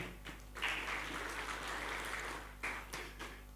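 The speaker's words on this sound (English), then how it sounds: "A hand of applause to the East Africa Wildlife Society." Audience applause at a wildlife partnerships conference session, heard through a room microphone with a steady low hum beneath, rising in bursts of clapping and staying moderately quiet and distant throughout.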